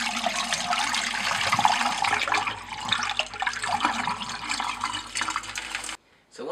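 Running water pours steadily over aquarium pebbles as they are rinsed clean, a loud continuous splash and gush that carries on for about six seconds before cutting off abruptly.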